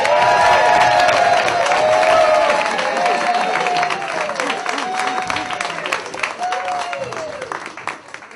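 A comedy club crowd at a stand-up show applauds and cheers to welcome a comedian to the stage, steady clapping loud at first and easing off, with voices and whoops mixed in.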